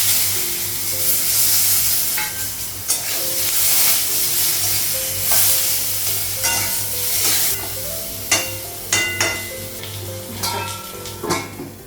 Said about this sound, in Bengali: তেল দিলাম, আগে বেগুনটা ভেজে, হলুদ দিলাম,